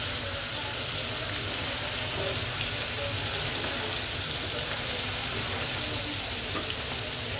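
Hilsa fish frying in a pan for a raw papaya curry, a dense continuous hiss of hot oil heard close and steady throughout, with no voices.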